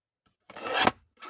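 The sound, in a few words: cutting thick junk journal paper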